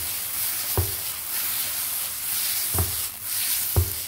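Taro greens (kochu shak) frying in a pan, a soft continuous sizzle broken by three dull knocks of a utensil against the pan, no one speaking.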